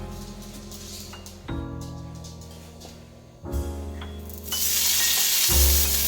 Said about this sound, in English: now that my pan is preheated, I'm going to put down some pork